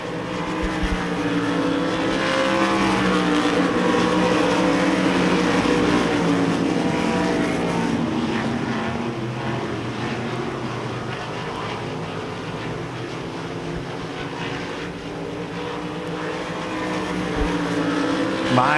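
Race cars roar through a heat race at Devil's Bowl Speedway, a loud, sustained engine drone that swells and fades slightly as the pack circles, with no talk over it.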